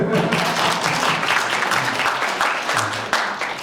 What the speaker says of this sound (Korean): 예, 박수 한번 주시고요